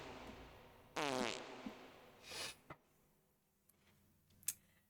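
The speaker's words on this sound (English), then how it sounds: "cute little butt is going to give you guys a special fart just for you guys" A short, soft fart sound effect plays alone in a quiet room, followed by a few faint ticks and small clicks.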